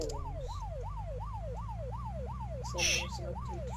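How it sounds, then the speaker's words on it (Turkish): A wailing video game siren in Unturned sweeps up and down repeatedly over a low engine drone, loud and steady, with a brief noisy burst near the end. "şu sireni, siren sesini nasıl durduracağız?"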